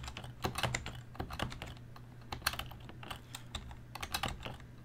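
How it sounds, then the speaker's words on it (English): Keys clatter on a Color Computer keyboard while a BASIC program is entered, a brisk run of close, crisp clicks in irregular bursts with brief pauses and no talk. "I got to find out where the asterisk is on my keyboard."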